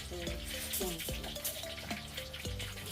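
Food fries in oil in a home kitchen with a continuous sizzling hiss, and faint voices sound in the background.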